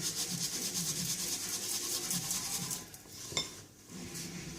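Damp bath bomb mixture rubbed and stirred by hand in a bowl for making embeds, giving a steady close gritty scraping and rustling that eases briefly near the end, with no talking.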